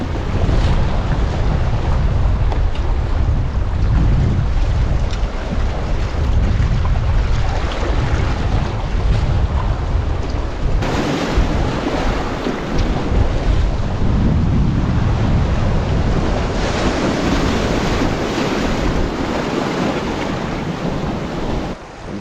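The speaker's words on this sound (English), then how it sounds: "It's so windy, I don't want it blowing into the water." Strong wind buffets the microphone as waves surge and wash against a rocky shore, a constant rushing roar with swelling bursts.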